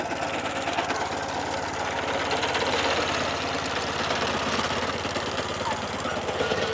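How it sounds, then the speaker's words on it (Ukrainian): A walk-behind tractor mower engine runs nearby on a Swiss farm with a rapid, rattling, steady chatter, loud and unbroken throughout. "покажу трошечки, як така Косарка працює. Мотоблок це"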